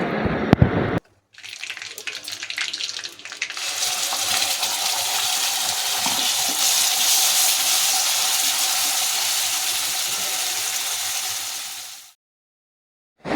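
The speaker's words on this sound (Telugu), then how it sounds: "దీని తర్వాత కడాయిలో తాలింపు వేసి ఈ పేస్ట్ని వేసి బాగా ఫ్రై చేయాలి" Spinach and onion paste hitting hot tempering in a kadai, with a brief clatter followed by a loud, steady hiss of frying that fades out abruptly near the end.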